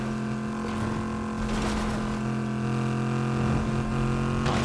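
A car engine in Fortnite drones loudly and steadily, a sustained buzzing hum with slight pitch wavering, alone without speech.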